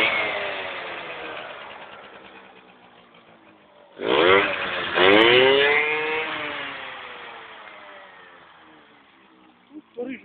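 A motorcycle on its original stock exhaust idles nearby, then revs up sharply in two strong bursts before settling back, with a short blip at the end.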